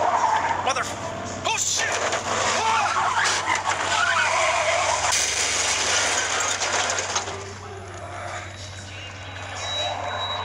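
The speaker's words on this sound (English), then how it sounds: "Truck's wrecked." A truck skids and crashes in the zombie game Into the Dead 2 on Android: a dense, loud roar of scraping and grinding noise fills the whole stretch, with a man's startled exclamation over it.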